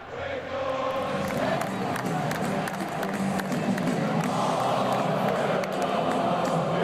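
A football stadium crowd chants in unison, a dense, sustained roar of many voices at a steady level, distant and reverberant throughout.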